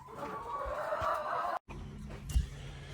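Backyard chickens clucking close by in a flock, with steady overlapping calls and a brief break before the birds resume.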